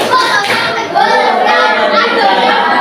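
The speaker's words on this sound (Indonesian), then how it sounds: "Tepuk konsentrasi" A primary school class, sixth graders, claps hands together in a steady concentration rhythm, loud and close, with children's voices chanting over the clapping.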